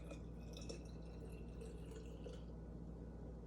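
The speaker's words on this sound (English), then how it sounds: "I'm going to pour that into my little bottle here, which looks like a little flask." Apple cider vinegar is poured into a small flask-like bottle, trickling and splashing quietly for about two seconds before stopping.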